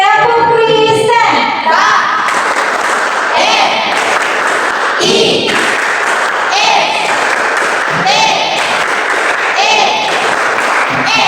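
Church education class group doing the Tepuk Kristen clap routine: rhythmic bursts of group clapping in a patterned sequence, loud and close, with children's voices chanting along between claps.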